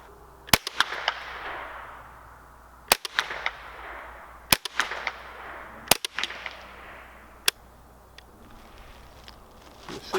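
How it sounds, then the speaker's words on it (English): A Henry US Survival AR-7 rifle fires at an outdoor range. About six sharp, loud shots ring out at irregular intervals, each followed by a short fading echo. "we're going to do 8 more shots with it real quick"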